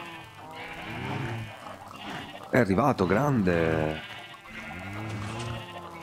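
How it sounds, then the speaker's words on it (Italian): Sheep bleating in the video game Minecraft, a few wavering, close bleats that rise loudest in the middle, with someone talking over them. "diamo da mangiare le nostre pecore"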